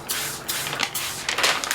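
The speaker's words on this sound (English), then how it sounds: "the first thing I'm going to do is spray the butcher's paper" A spray bottle mists butcher's paper for wrapping a smoked brisket, several quick hissing spritzes in close succession, loud and near, with no talking.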